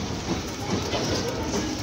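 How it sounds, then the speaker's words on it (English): A train pulls in at a seaside theme park, its steady rolling rumble and faint rail clatter continuing throughout under general crowd noise. "There's a train just coming in right now."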